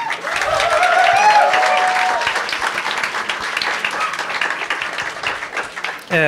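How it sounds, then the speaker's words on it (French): An audience applauds at an evening event for a French social sciences publication, dense clapping filling the room and slowly thinning, with faint voices mixed in early on. "Julien Vittorès, on l'applaudit"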